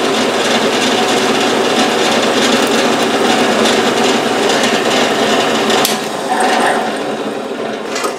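Loud, continuous grinding of a number 7 drill bit boring into a metal part for a mill vise stop, holding steady before easing off and winding down near the end, with no talk.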